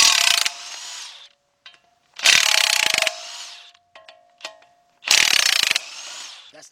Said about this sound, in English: I got my 18mm socket deep, 1/2 inch drive, and my cordless impact.